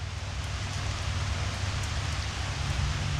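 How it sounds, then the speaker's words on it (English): Steady rain falls outdoors as a continuous, even hiss with a low rumble underneath, no voices, holding at a constant level throughout. "Why is it so wet outside? Because it's raining."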